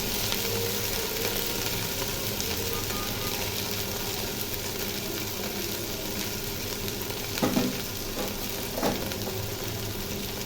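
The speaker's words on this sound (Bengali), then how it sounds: "ভেন্ডি ভাজিটা এখন রান্না করব।" Okra (bhindi) fries in a pan with onion and green chili, giving a steady, close sizzle that stays even throughout, broken by a couple of brief louder crackles near the end, with no voice over it.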